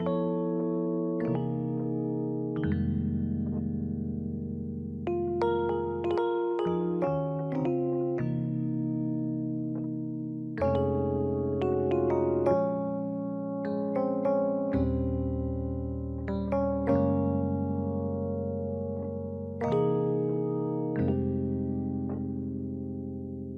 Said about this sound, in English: The worship electric pianos.